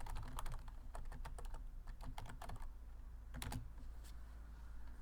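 Fingers type on a low-mounted computer keyboard, quiet irregular clicks in short bursts with pauses between them, heard close up in an otherwise still room.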